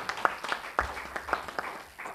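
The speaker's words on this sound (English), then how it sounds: "a round of applause" A few scattered hand claps sound at a Kenyan diaspora alliance event: a quiet, sparse patter of individual claps that tapers off after a couple of seconds.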